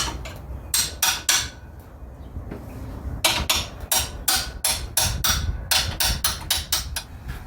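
A hammer strikes a 1974 Dodge D100 exhaust manifold, ringing metallic blows landing near and loud in uneven bursts: a few hits, a short pause, then a long run of rapid, repeated strikes.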